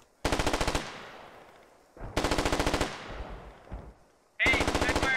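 Gunfire in the video game Squad comes in three loud, close bursts of rapid automatic fire. Each burst rattles for about half a second, followed by a decaying echo.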